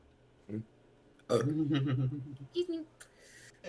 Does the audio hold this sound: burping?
yes